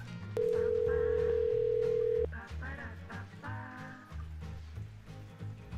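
Outgoing telephone call to a viewer, a steady loud dial-type tone for about two seconds followed by a ringback pattern over low background hum and faint aquarium-like noise.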